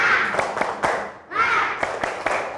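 A class of third-grade children performs a rhythmic spirit clap in a classroom, sharp unison claps landing in a quick patterned beat across two phrases, close and loud, with a brief pause between them.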